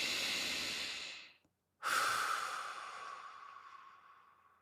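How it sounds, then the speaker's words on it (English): A slow, deep breath during a guided meditation: a long airy inhale fades out, a brief silent pause follows, then a full exhale rushes out and tapers away gently, close and alone. "I'm going to invite you to take a breath with me."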